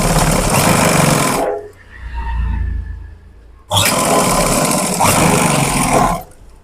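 A sewing machine stitches two churidar pant pieces together at the high portion, running loud and steady in two long bursts with a quieter pause between them.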